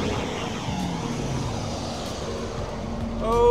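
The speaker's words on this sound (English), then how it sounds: "1994, red on red with white soft top Corvette doing its first flyby" A red 1994 Chevrolet Corvette convertible with a white soft top sweeps past in a fast flyby, its broad engine roar steady and close before swelling louder at the end.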